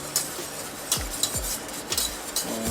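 A utensil stirs caramel and butter in a pan on the stove, making soft scraping swirls with a few light clinks against the pan. The stirring is close, low in volume and brief.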